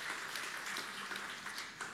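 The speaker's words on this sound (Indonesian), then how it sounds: "Beri tepuk tangan yang meriah bagi Tuhan Yesus." A church congregation gives brisk, lively applause, a dense patter of many hands clapping together, fairly faint and brief.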